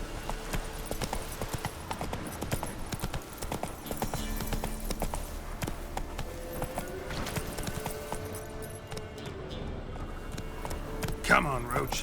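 Hoofbeats of the horse Roach clop in a fast, steady gallop in The Witcher 3, continuous and close under game music and ambience, with a brief sharp sound near the end.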